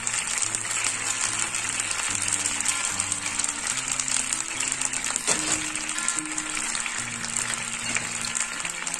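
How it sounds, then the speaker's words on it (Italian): Canned peeled tomatoes are dropped into a pan with garlic over a low flame, and a dense, steady sizzle and spatter follows, loud and close, with a low hum running underneath throughout. "Attenzione perché in questo momento schizza dappertutto."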